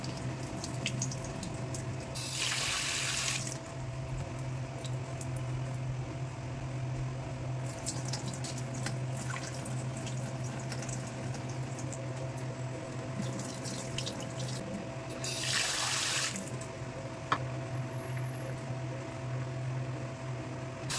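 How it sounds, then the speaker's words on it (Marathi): Ragi (finger millet) washed under a running tap: a continuous rush of faucet water with splashing, swelling in three louder bursts as the stream is stronger, close and without speech. "जोपर्यंत क्लिअर आणि स्वच्छ पाणी येत नाही किंवा राहत नाही तोपर्यंत नाचणी धुवून घ्यायची आहे।"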